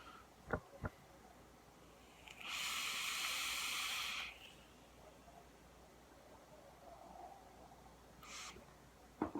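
A vaper exhales a cloud of strawberry Champagne Supernova e-liquid, a soft breathy hiss lasting about two seconds in a quiet room, with faint clicks around it and a brief second puff near the end.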